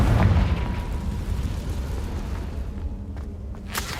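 A Confringo blasting spell explodes in the Hogwarts Legacy video game: a loud, deep boom bursts at the start, then a low rumble lingers and slowly fades, with no voices.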